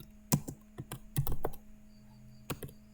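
Keystrokes on a computer keyboard while typing an SQL select query, a handful of sharp separate clicks with a quick cluster in the middle, close and fairly quiet, with no talking.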